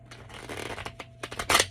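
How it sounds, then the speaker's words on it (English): A deck of tarot cards is shuffled up close: several quick papery riffles and flutters, ending in a louder burst, with no voice. "I'm gonna shuffle this deck."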